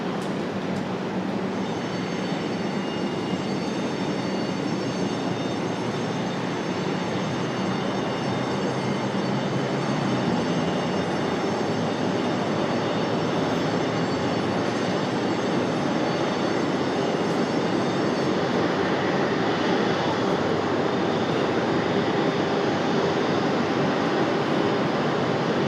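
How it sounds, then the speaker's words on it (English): An Airbus A330 airliner passes an airport spotting spot at RDU, a steady, loud jet roar with broad rumble that swells and holds for about twenty-five seconds, with no one talking. "All right, enjoy the A330."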